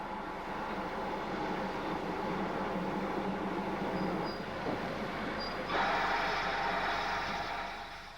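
A post-war Castle-class steam locomotive with a Hawksworth tender, heading the Bristolian express, gives a steady, loud, rumbling roar throughout with no voices over it.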